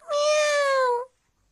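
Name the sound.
cat meowing in a cartoon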